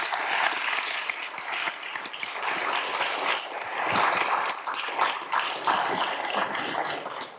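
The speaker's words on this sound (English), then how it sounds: "Can you please give one more round of applause to Mary?" An audience applauds at the close of a university leadership talk, a full, steady round of clapping from a large room that holds its strength before tapering slightly at the end.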